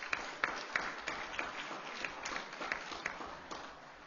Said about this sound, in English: Give Cindy a round of applause.